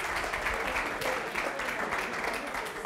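A studio group applauds a correct answer during a French NBA pre-game quiz show before a Wolves–Warriors game. Brisk, moderate clapping runs throughout, with voices talking over it.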